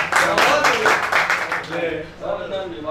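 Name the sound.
audience applause welcoming the guest poet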